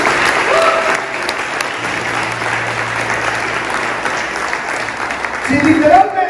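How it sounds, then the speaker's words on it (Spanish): A church congregation applauds loudly and steadily during a worship service, a dense wash of clapping close by with voices and cheers mixed in, swelling near the end. "Denle un fuerte aplauso al Señor Jesucristo."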